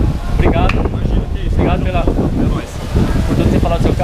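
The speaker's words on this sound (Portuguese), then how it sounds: "acho que o vento tá trabalhando demais." Heavy wind buffeting a microphone outdoors beside a modified Volkswagen Beetle: loud, continuous low roaring gusts that swell and dip throughout, with a voice talking through the noise.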